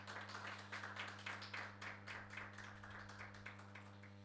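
A church congregation at a Sunday service claps in a quick, regular rhythm, the faint taps repeating steadily over a low electrical hum.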